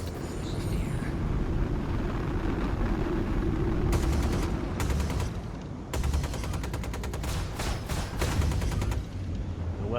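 Ship-mounted weapons on a P52 Merlin fighter in Star Citizen fire in rapid bursts, with short rattling volleys around 4–5 seconds and a longer rapid stream from 6 to 9 seconds over a steady engine hum.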